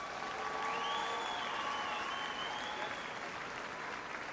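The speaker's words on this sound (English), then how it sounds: "Please keep the applause going" Steady applause from a large arena crowd at Crufts 2024 after a show jumping cup, a continuous wash of clapping with a faint tonal sound drifting over it.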